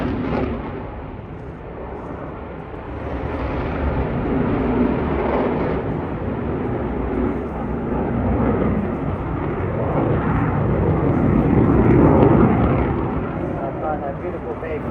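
A Eurofighter Typhoon jet performing a barrel roll at the 2023 Eastbourne air show gives a broad, roaring rumble that swells and fades, peaking loudest near the end, with a commentator talking over it.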